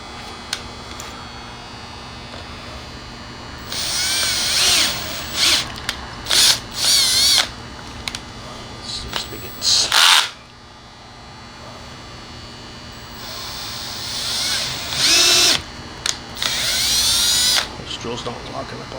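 A power drill runs in several short bursts and one longer stretch while a security camera is assembled. Someone talks between the bursts over a steady background hum.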